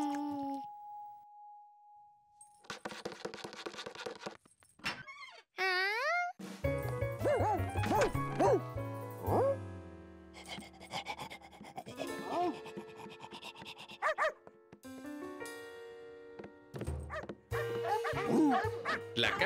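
Dogs barking in a Curious George cartoon, a string of yaps, yips and whimpers from several cartoon dogs, close and lively, mixed with jingles, sliding whistles and playful music, with a voice speaking in between.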